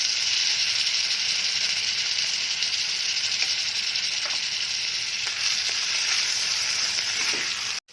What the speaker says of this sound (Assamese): পেষ্ট কৰি থোৱা পিঁয়াজ দিছোঁ।